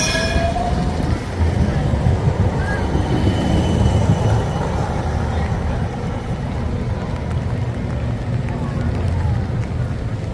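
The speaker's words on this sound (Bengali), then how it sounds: "দেখুন ড্যাম স্কোয়ার দিয়ে ট্রাম যাচ্ছে" A tram rolls through Dam Square in Amsterdam on a wet, rainy day, a loud steady rumble of wheels on rails with a brief high squeal near the start, mixed with city street noise.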